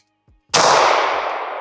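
A single pistol shot fired from a handgun with an ADE red dot sight, a sharp loud crack with a long decaying ring and echo, outdoors, with no talk over it.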